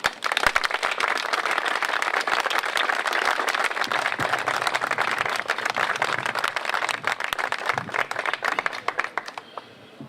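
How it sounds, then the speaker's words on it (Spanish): An audience in Rome applauds before Venezuelan president Nicolás Maduro speaks, dense clapping sustained at a steady loud level for about ten seconds before tapering slightly at the end. "Un aplauso previo."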